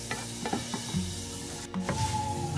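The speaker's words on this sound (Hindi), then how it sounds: "ऑयल डाल के हमने हल्का सा इसको फ्राई" Chicken fries lightly in oil for popcorn pasta, a steady close sizzle broken by a few soft clinks and scrapes of stirring in the pan.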